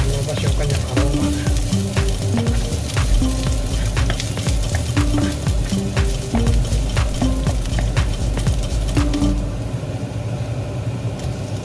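Fresh ginger frying in a pan for Bicol Express sizzles steadily and loudly, with scattered clicks and scrapes of stirring throughout, easing slightly toward the end.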